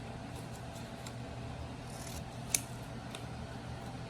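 Scissors trim excess craft vinyl in a faint, steady cut under a constant background hiss, with one brief sharp snip partway through.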